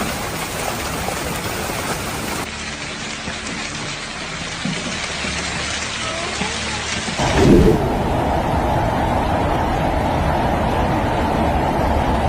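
Heavy rain pours steadily in a severe thunderstorm with flooding, a dense roaring wash of rain broken by a loud thunder rumble partway through, and no voices.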